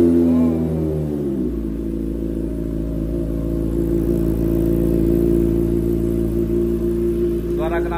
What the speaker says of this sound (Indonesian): Dan untuk mesin kita coba nyalakan langsung ya biar enak.